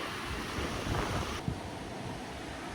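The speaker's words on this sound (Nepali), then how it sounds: "यस्तै हावा चल्यो थियो, सरर चल्यो क्या" Gusting wind at a riverside fishing spot near Okhaldhunga Ghat in Nepal, a steady, close rushing roar that buffets the microphone with low rumbling surges and no talking.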